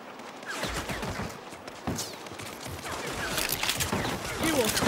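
Gunfire in the Saints Row: High Noon video game, a rapid spray of sharp shots and clatter that keeps going throughout, with shouting voices mixed in.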